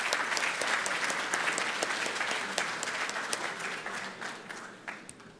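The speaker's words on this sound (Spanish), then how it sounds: "Un aplauso," Audience applause for a presenter at a talk, a sustained dense wash of many hands clapping that holds steady then thins slightly toward the end, no voices over it.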